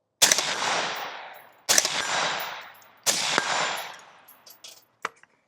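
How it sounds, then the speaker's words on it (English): Three loud rifle shots ring out at a 75-yard target, evenly spaced about a second and a half apart, each a sharp crack with a long reverberating tail, followed by a few faint clinks. "let's go ahead and shoot some shots at 75 yards on a still target."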